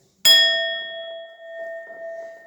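A single bright metallic chime is struck once and rings on with a clear sustained tone that slowly fades, nothing else around it.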